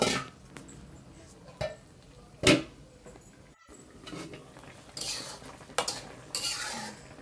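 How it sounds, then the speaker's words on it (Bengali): A spoon stirs fish curry in a cooking pot, giving close scraping and clinking strokes against the metal with a soft sizzle underneath, in uneven bursts. "মাছগুলো দেওয়া হয়ে গেলে একটু নাড়াচাড়া দিয়ে আবার ঢেকে দেব"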